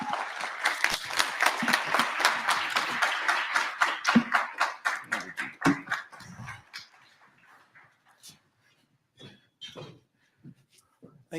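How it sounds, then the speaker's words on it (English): A crowd at a Bradley University speaker event claps in rapid, steady applause welcoming a speaker to the stage, gradually thinning into a few scattered claps before fading to quiet. "please welcome him with your applause to the stage"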